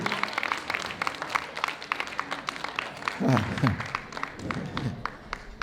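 Wedding reception guests applaud in a steady crowd clapping that runs throughout, while someone speaks over it into a microphone, his voice prominent above the claps.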